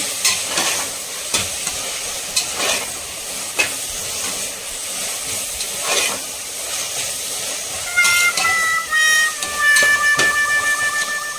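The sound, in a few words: sautéing mint and coriander leaves in a pan for mutton biryani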